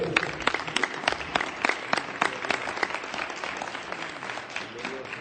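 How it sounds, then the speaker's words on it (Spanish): A church congregation claps steadily together in a dense, continuous wash of applause that holds evenly throughout, with a little voice mixed in. "¿Cuántos aplauden al Señor? Fuerte."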